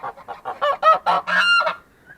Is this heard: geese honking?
yes